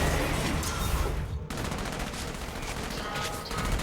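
Rapid continuous gunfire in Enslaved: Odyssey to the West, loud and close, a dense rattling barrage with a brief break partway before the shooting resumes.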